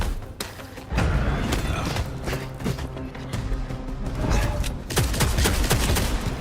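Rapid volleys of gunfire in the video game Vampire: The Masquerade - Bloodlines 2, sharp repeated shots and thuds in dense bursts, loud and continuous throughout.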